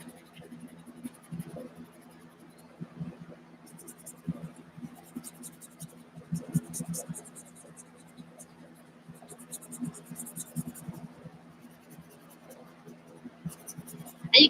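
Oil pastel scratches across cheap, textured paper in irregular, close strokes, a dry raspy scraping that stops and starts, with a steady low hum underneath.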